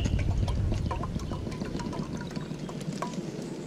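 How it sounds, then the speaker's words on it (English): Outdoors at a wild camp in autumn, water splashes into a cup in a short close pour over a low rumble of wind. "Get some water in this cup, not too much."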